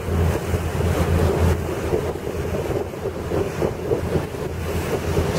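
Detroit Diesel engines drive a Hatteras 53 yacht at about 19 knots on the Patapsco River, a low, steady drone half buried under heavy wind buffeting and rushing water.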